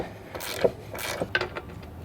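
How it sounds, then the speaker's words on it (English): A 9/16 inch socket loosens an air fitting on a Trailair 5th wheel pin box air spring, giving a few short ratcheting clicks and metallic scrapes close by, with no talking. "we're just going to take a 9/16 inch socket and we're just going to remove that air fitting"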